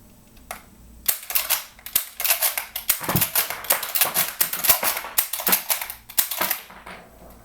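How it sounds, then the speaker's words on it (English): A Lee-Enfield rifle bolt is worked rapidly on snap caps, giving a close series of sharp metallic clacks and clicks in quick irregular bursts, with a few isolated snaps at the start and no talk. "I'm going to load in some Snapcaps real quick so we're not just dry firing this."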